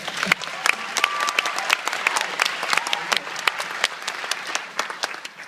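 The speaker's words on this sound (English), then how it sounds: "So give her a big round of applause." Audience applause fills the room after a young symphony violinist's performance at a talent show, steady dense clapping from many hands at moderate loudness throughout.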